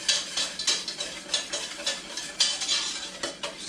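A spoon stirs a quarter cup of white granulated sugar into a hot mixture in a bowl for kimchi, giving repeated close scraping and clinking strokes in an irregular rhythm with no voices.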